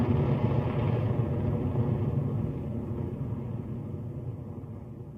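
Rocket Lab Electron rocket engines roaring steadily during liftoff from Launch Complex 1, a continuous deep, broad rumble that slowly eases in loudness, heard alone without voices.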